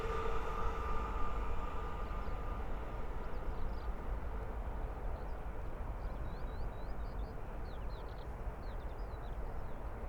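A Class 307 electric multiple unit pair passing at Great Wymondley on the East Coast Main Line, a steady distant rumble of wheels and rail noise heard from the lineside with no talking.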